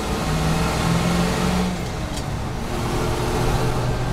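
A basic manual-steering utility car drives down a road in second gear, its engine droning steadily up close with a slight dip in pitch partway through.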